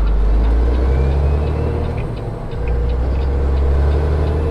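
Heavy truck engine and exhaust noise from inside the cab as it accelerates up a ramp, with a rusted-through flex pipe leaking exhaust; a loud, steady low-frequency rumble that dips briefly midway, with no talking.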